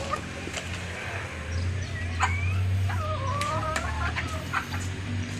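Chickens clucking at close range in a farmyard, a run of soft throaty clucks and short calls over a steady low hum, with no talk.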